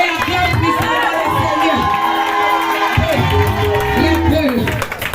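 Church congregation cheering and acclaiming, a loud, dense mass of shouting and whooping voices that keeps up steadily throughout, with a few claps mixed in.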